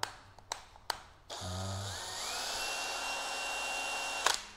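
A few sharp clicks, then a Hitachi 9.6 V cordless drill whirs up, pitch rising as it speeds up and then holding a steady high motor whine for a couple of seconds before stopping with a click.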